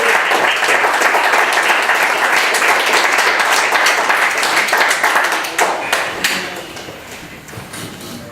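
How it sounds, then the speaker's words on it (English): A gallery audience applauds loudly for a San Diego poet before his spoken-word reading. Dense, close clapping fills the room, then thins and fades over the final few seconds. "Give him a big round of applause"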